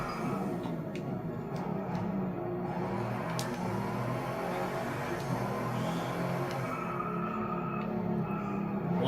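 Pagani Huayra supercar engine on a fast lap in the racing game Driveclub, a steady, continuous roar and road rumble with no breaks, moderately loud throughout.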